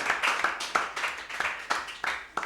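A small group claps for schools at a quiz contest, sparse, uneven hand claps in short irregular bursts, fairly close, with some voices in the background.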